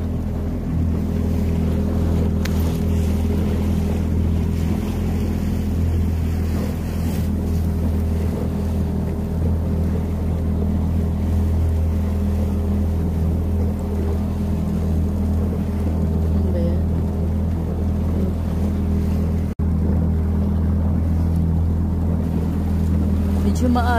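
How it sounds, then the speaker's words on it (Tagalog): A boat near Narvik, Norway, rides rough sea, heard as a loud, steady low engine rumble with wash of water and waves around the hull, continuous for the whole stretch. "Medyo maalon, oh."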